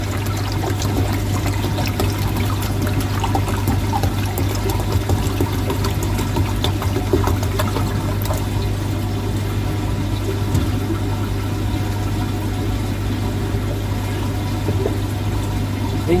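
Water pours steadily into a watering can, a loud continuous gurgling stream close by with a constant low hum underneath throughout.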